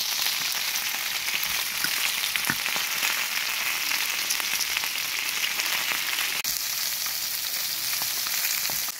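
Squid frying in splattering cooking oil in a pan, a loud, continuous close sizzle with crackling pops and sharp spits scattered throughout, no talking.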